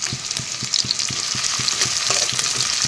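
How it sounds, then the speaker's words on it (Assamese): Onions sizzle in about 200 grams of hot oil for a chicken curry, a bright constant crackle with a steady rhythmic scraping of a spoon stirring the pan, close and loud with no voices. "পিঁয়াজখিনি মই নৰম হ'বলৈ দি দিম"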